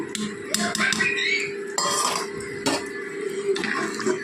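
Khichuri of boiled rice and dal, with cumin and turmeric mixed in, is stirred in a cooking pot, giving a few close metallic clinks and scrapes of a spoon against the pot.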